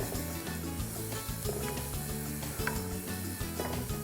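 Onions and leek softening in melted butter while a spoon stirs them in a pan, with a soft continuous sizzle under occasional light scrapes and clinks, heard close with no talking.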